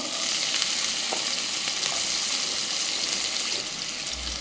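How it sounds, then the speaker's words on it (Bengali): Chopped onions fry in hot oil with a steady, close hiss and crackle that fills the whole stretch without pause and fades slightly near the end. "আমার গরম হয়ে গেছে, এখন আমি পেঁয়াজগুলো দিয়ে দিব।"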